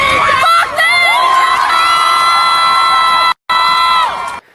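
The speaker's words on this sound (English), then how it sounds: "This is the crowd in London." Crowd at a street gathering in London shouting and cheering, loud, with high sustained yells and whoops layered over one another, broken by two short gaps of silence.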